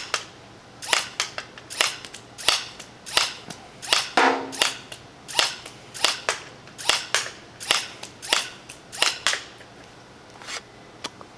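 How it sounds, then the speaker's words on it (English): An HC Diana Nerf-style toy blaster fires at bottles outdoors: about twenty sharp, snappy shots at a steady, roughly half-second rhythm, close and loud, with no talking. "Fresh bottles, new blaster."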